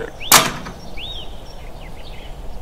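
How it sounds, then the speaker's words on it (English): A cottage door swings open by itself with one sharp click or thud, then faint creaking and squeaky glides trail off against a quiet background. "the door opened all by itself."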